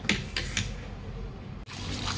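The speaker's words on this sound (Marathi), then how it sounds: "नळाखाली भांडी धुवून घेऊया" Clay pots rinsed under a running kitchen tap. A steady wash of water sounds close by throughout, with a few brief clinks and splashes and a short break near the end before the flow resumes.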